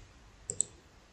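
Two sharp computer mouse clicks in quick succession during document export software work, quiet and close, over faint background hiss.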